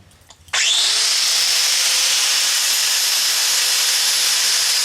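Continuous loud grinding of metal on a John Deere GX355 tractor part, starting abruptly after a brief quiet moment and holding a steady, harsh, high-pitched whine throughout.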